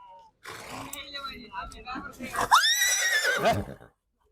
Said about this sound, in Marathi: मंडळी, कुठे दिले भाऊ हा घोडा?